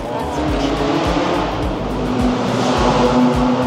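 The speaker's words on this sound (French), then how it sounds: "Ça, c'est des bagnoles de 1950 qui tournent." Loud engine roar of 1950s race cars circling nearby at the Monaco Historic Grand Prix, a constant rumbling drone with rhythmic low pulses as they pass, with faint voices underneath.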